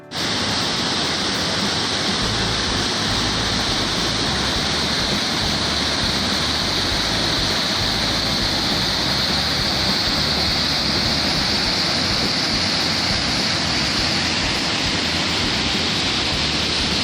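A stream flows in an outdoor field setting, producing a steady, loud, rushing wash of water that stays constant and close throughout with no voices.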